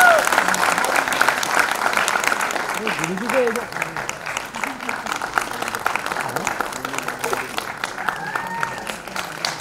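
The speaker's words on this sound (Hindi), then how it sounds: "जोरदार तालियां" Sustained, dense audience applause fills a hall at a book launch celebrating a singer, steady clapping throughout while a voice speaks over it on the microphone.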